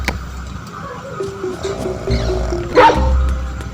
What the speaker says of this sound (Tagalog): Ang ingay pala ng aso dito